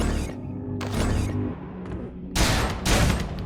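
Gunfire in the video game Shadows of the Damned: two loud, sharp bursts of shots ring out near the end, following a quieter stretch of game ambience and rumble.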